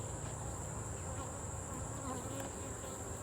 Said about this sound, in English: Got the frame with the bees on it.